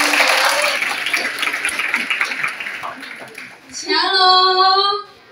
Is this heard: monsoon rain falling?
no